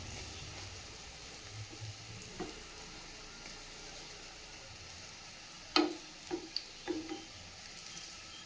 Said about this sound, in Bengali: বড়াগুলো বেশ লাল লাল করে ভাজা হয়ে গেছে এবার নামিয়ে নেবো